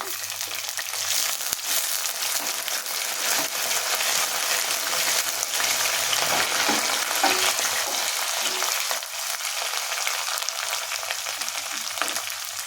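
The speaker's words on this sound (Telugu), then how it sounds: "కొంచెం ఎర్రగా వేగేంత వరకు ఈ ముక్కల్ని సిమ్లో పెట్టి వేయించుకోండి." Chicken pieces with curry leaves fry on low heat in a pan, a steady dense sizzle running throughout with occasional stirring scrapes, loud and close, no one talking.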